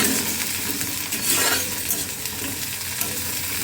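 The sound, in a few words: onions frying in oil to make birista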